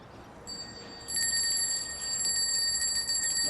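Small bell rung near a cow in Switzerland, a bright sustained metallic ringing that starts faintly and swells louder after a second, steady over low background rumble.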